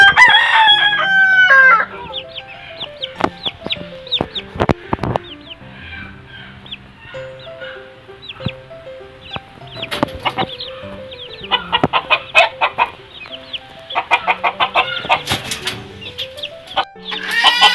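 Chickens and chicks cluck busily and repeatedly close by around a coop, a rooster crowing briefly at the start, the clucks coming in quick uneven clusters throughout.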